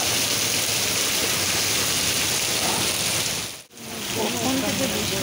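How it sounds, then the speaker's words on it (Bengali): Heavy rain pouring down outdoors near Adabari in Guwahati, a dense, loud, continuous hiss of drops that dips briefly for a moment before returning at full strength. "অনেক বৃষ্টি পড়ছে"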